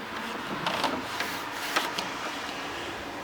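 An office printer runs in a room, feeding a sheet through with a steady mechanical whir and a few short clicks and clunks of the paper drive, with no voices.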